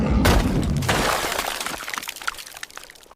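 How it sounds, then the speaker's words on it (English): An AI-generated scene of a Yeti smashing a hole through an icy lake: a loud cracking crash of breaking ice up front, followed by splashing water and scattered ice fragments settling and fading out. "he's smashing a hole through an icy lake"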